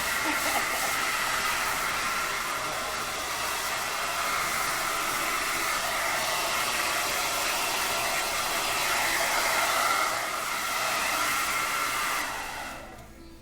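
A hair dryer blow-dries a men's scissor haircut, blowing a loud, continuous whooshing hiss that stays steady for over ten seconds before cutting off abruptly at the end, with no talking.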